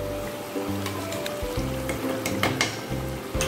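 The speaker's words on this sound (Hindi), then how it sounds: "मैंने जो अपना काजू का पेस्ट तैयार किया था वो अब मैं इसमें ऐड कर रही हूँ।" Cashew paste goes into a pan of sizzling chicken gravy for Mughlai chicken changezi, giving a steady, close frying crackle with brief stirring scrapes and no talking.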